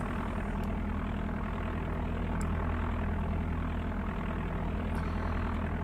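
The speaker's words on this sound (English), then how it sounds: "We'll go ahead and get the plane started here." Propeller plane engine in Flight Simulator 95, running with a steady, continuous low drone and hum throughout, loud and unbroken, with no talk over it.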